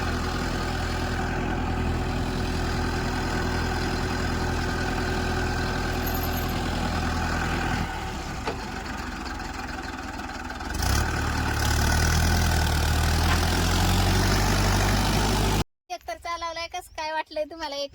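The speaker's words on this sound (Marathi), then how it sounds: "तिथं ट्रॅक्टर चाललाय आता" Tractor engine running in a millet field: a steady, droning idle that dips and then rises again partway through, continuing at a close distance, with a short stretch of voice at the very end.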